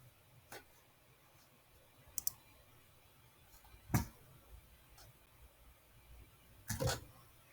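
Several sharp computer mouse clicks, scattered singly and in a quick double, stand out faintly against a quiet room hiss with no talking.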